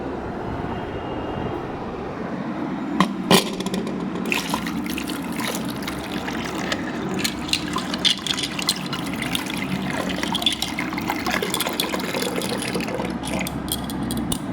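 Gold jewellery rinsed under a running tap at home, a continuous close trickle and splash of water with clicks and rattles of metal pieces being handled throughout.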